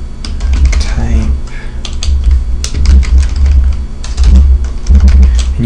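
Close, fast clicking of a computer keyboard being typed on, with steady irregular keystrokes and a low background hum.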